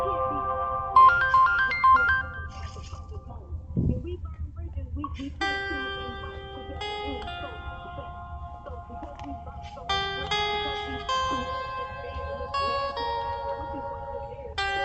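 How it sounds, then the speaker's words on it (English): A 2017 phone ringtone plays a bright, tonal melody with repeating notes, briefly interrupted by a low thump, then resuming in steady, loud phrases, with faint talk underneath. "Just one more ringtone."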